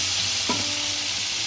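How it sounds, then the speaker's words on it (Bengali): Pointed gourd (potol) fries in a pan lightly coloured with turmeric, giving a steady close sizzle with a brief stirring scrape midway. "পটলটা ভাজা হয়ে গেছে"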